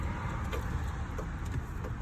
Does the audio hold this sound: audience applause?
no